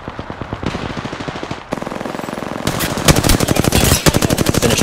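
Rapid automatic gunfire in a first-person shooter video game, loud bursts of machine-gun fire stacking into heavier overlapping volleys, with no speech.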